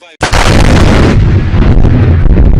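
A lightning strike during a thunderstorm hits near a flying kite, giving a sudden deafening close blast that follows a brief quiet moment and then decays into a long, rough crackling rumble.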